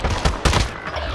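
Video game gunfire, a quick burst of several loud close shots fired in rapid succession, no talk.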